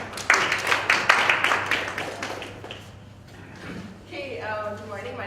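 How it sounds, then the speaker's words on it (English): An audience at an in-house presentation training session claps loudly for a couple of seconds, the applause then fading out as a voice speaks over it. "Hey, don't stop clapping already."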